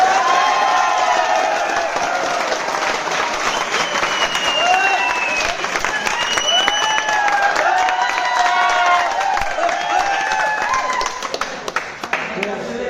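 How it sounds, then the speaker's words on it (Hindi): An audience breaks into loud, sustained clapping mixed with cheers and whoops. It carries on for about twelve seconds before thinning out at the end. "ताली।"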